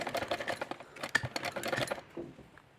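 A sewing machine runs in a steady rapid patter of needle strokes while stitching a turban, close and moderately loud, slowing and stopping near the end.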